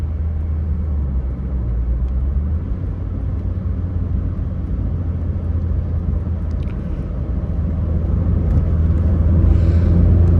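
A 1990 Renault 5 GT Turbo hot hatch on the move, with a steady low engine and road rumble heard from inside the car that swells slightly louder toward the end, no voices.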